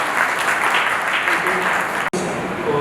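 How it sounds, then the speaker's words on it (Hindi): Applause from an audience at a Hindi-language news channel's event in Rajasthan, steady clapping throughout with a brief dropout near the end. "आपकी जोरदार तालियों के बीच"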